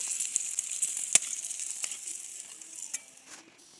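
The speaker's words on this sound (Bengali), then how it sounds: "বন্ধুরা মাছ ভাজা হয়ে গেছে তুলে নেব" Fish fry in a pan with a soft, steady sizzle that slowly fades, punctuated by a few sharp pops and clicks of a utensil against the pan.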